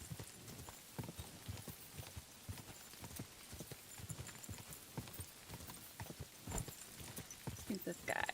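Continuous clip-clop of horse hooves in a quick, even rhythm, close and moderately loud, with a short tonal cry near the end.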